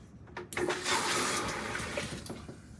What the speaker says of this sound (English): Let's try and drain some water here from this spin down.